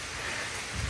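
Heavy rain falls steadily as a dense, even wash of noise with no voices, a low rumble swelling briefly near the end.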